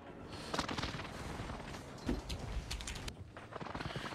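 Explosions from a precision airstrike in a video game: a series of broadband booms and gunfire-like cracks, mid-distance and fairly loud, recurring irregularly over a steady rumbling background.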